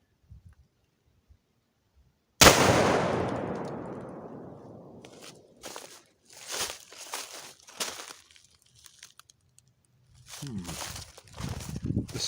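1847 Colt Walker revolver firing a 200 grain bullet over 50 grains of 3F black powder: a single sharp, loud shot after quiet, ringing out with a long decaying tail, followed by handling sounds and voices.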